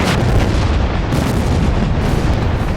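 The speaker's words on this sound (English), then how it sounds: "Up above, huge explosions shake the valley." Deep, rumbling dynamite blasts at the El Cajon Dam construction site roll on continuously, heavy low booming filling the whole stretch like distant explosions echoing through a valley.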